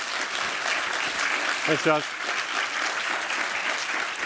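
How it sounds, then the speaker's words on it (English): An audience at a business breakfast briefing gives a speaker a steady round of applause, with someone briefly speaking over the clapping midway. "one more final round of applause"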